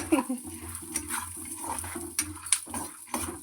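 Peanuts being stirred and fried on low heat in a bowl with a little oil for chutney, soft sizzling under scraping and clinking of a spoon against the pan, with brief speech in the background.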